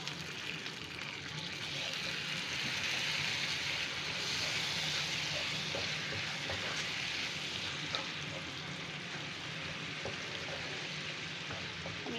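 Masala spice paste being fried in oil for a koi fish curry, with a little water added, gives a steady, even sizzle and bubbling hiss that runs close and continuous throughout, with no voices.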